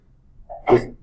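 A single quick sneeze bursts out in a quiet room, a short breathy lead-in followed by a sharp explosive release lasting under a second.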